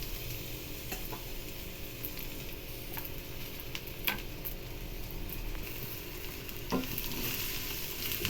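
Brinjal pieces frying in sunflower oil in a hot kadai, a steady close hiss of sizzling oil with occasional light clicks of a spoon stirring, no voices.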